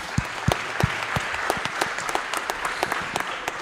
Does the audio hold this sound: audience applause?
yes